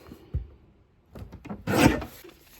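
Paper for a page kit being trimmed on a cutter, a soft knock, then a couple of short scraping strokes ending in a louder rasping slide of the blade, close and alone.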